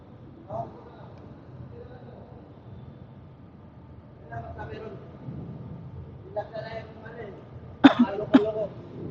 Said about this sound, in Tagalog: Ay, naku, inuubo ako.